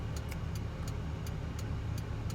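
A car's turn indicator ticks in a steady, regular rhythm while the car waits at a red light, with about eight clicks over a low, constant idling engine hum and no talk.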